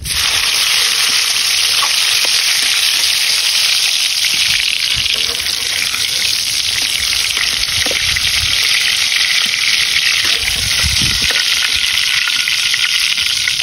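Loud, dense sizzling of tomatoes frying in oil in a pan for a Filipino breakfast, a continuous close crackle with faint stirring knocks beneath.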